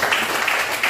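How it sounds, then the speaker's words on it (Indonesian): Brief, fairly dense clapping from a class audience after a group presentation, steady through the short moment with a slight swell near the end. "Ya, tepuk tangan dulu."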